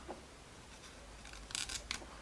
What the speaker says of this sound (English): we take our scissors and we cut a piece out from the feather.